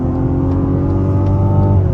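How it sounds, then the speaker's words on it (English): The turbocharged six-cylinder engine of a 2024 Mazda CX-90 Turbo Premium Plus hums loudly and steadily under throttle during a highway pull, heard from inside the cabin with no talk. "What a rev-happy, top-end, powerful, turbocharged 6-cylinder engine"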